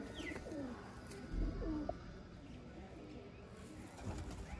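A golden pair of pigeons cooing softly, low repeated coos over a faint outdoor background, with no one talking.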